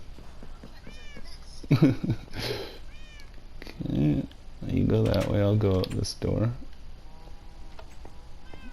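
Minecraft cats meowing in several bursts, some loud and close, mixed with game sounds while a person talks over them.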